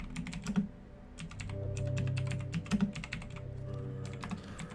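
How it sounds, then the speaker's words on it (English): A computer keyboard clatters in quick, close bursts of key presses as someone types into Minecraft chat, with a steady low game hum underneath. "I'll type in chat"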